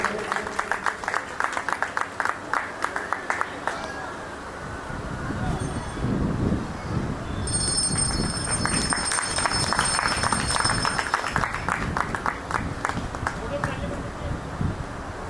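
Crowd clapping at a Shiv Mahapuran katha at Neelkanth Mahadev temple in Rohini, a sustained ragged wash of many hands rising through the middle, with a voice speaking over it and bursts of music-like tones.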